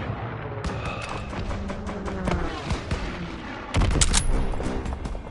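Battle gunfire in Call of Duty: WWII, a chaotic stream of rifle and machine-gun shots cracking over a rumbling combat bed, capped by a louder burst of heavier fire near the end.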